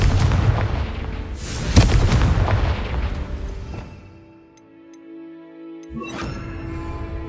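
A Confringo blasting spell explosion in Hogwarts Legacy: a loud, close booming burst with rumbling debris that decays over several seconds, followed by a brief sharp pop and fading ringing tones.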